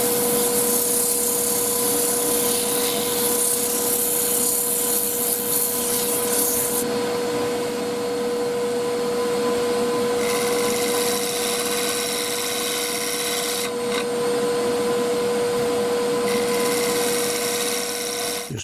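Power sanding inside a turned wooden bowl, working up through abrasive grits from 120 to 600, with a steady hissing rasp over a constant machine whine and hum, the tone shifting slightly as grits change, with no talking.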